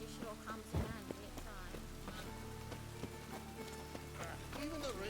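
Steady rain patters and hisses in a town in The Witcher 3, a soft, even wash running throughout with brief voices and scattered game sounds over it.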